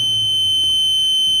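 A Midnite Classic charge controller's low-voltage alarm gives a steady, loud high-pitched electronic tone that holds unbroken through the whole short stretch, with a faint low hum underneath and no talking.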